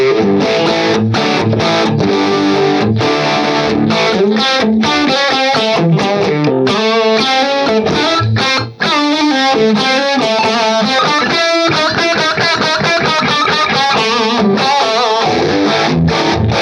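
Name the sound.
guitar through vintage Orange distortion pedal, sweeping the controls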